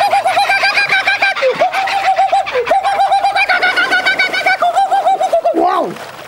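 A man imitates a kookaburra, his voice rising and falling in repeated rapid cackling, hooting bursts that run almost continuously, close and loud, before ending in a final swooping cry.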